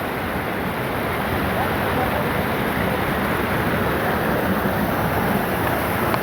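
Flood water rushes past a river bank in Miango, a dense, loud, unbroken roar of churning water heard close by, with voices talking faintly over it.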